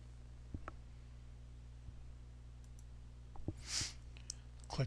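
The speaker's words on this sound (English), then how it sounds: "Click the Start button" A computer mouse clicks a handful of times in a quiet room, the clicks sharp and sparse over a steady low electrical hum.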